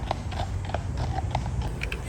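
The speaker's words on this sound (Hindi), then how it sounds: "पुलिस वाले पेट्रोलिंग जा रहे हैं इस पार्क में। देखो घोड़े में" Police horses on patrol walking through a park in Toronto, their hooves giving a steady run of clip-clop steps over a constant low background rumble, with no talking.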